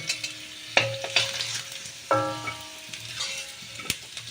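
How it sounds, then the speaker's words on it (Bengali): Potato pieces fry in hot oil in a pan for a fish curry, with a steady sizzle, sharp crackles and several metallic clinks of stirring. "এখন আলুগুলো আমি ভাজার জন্য ছেড়ে দেবো।"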